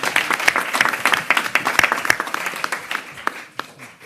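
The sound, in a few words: audience applause at a press conference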